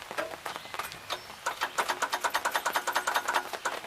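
A 1977 Gravely GMT 900 engine runs nearby with a steady, rhythmic chugging pulse that evens out into regular beats toward the end.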